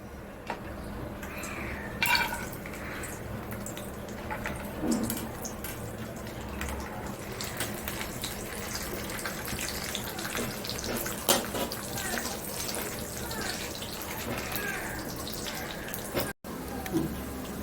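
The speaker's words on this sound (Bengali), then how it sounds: "এবার এইটা কাজু কিশমিশ এবার ভেজে নিচ্ছি" Cashews and raisins fry in a hot pan for Kashmiri pulao, giving off a steady, soft sizzle with small pops and clinks throughout.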